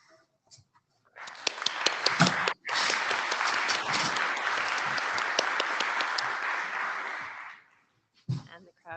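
An audience at an IETF lightning talk session breaks into applause after a talk, the clapping swelling for several seconds and then fading, with brief sounds and murmurs before and after.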